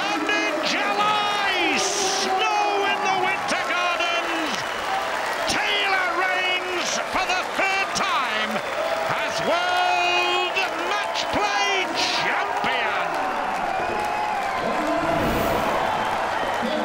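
Darts crowd at the World Matchplay cheering, whooping and applauding Phil Taylor's win, a loud, dense roar with shouts and whistles rising and falling throughout, with a commentator's voice running over it.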